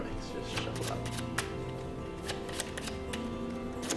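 Playing cards being shuffled and mixed from a deck with the Joker removed, a run of crisp riffling and sliding bursts throughout, close by, with soft background murmur.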